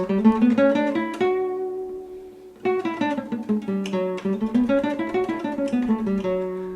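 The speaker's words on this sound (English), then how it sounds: "the third mode of the scale is called Phrygian, and it sounds like this" A Phrygian mode scale played in single notes up and back down, pausing briefly midway before a second pass, clear and close with no talking.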